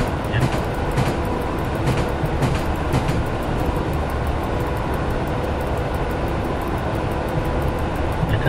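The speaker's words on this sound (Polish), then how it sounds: "Ten pociąg nie chce szybciej jechać," EN71 electric multiple unit running in SimRail on the Katowice–Zawiercie line, a steady loud rumble of wheels and traction noise throughout with faint clicks, alone without talk.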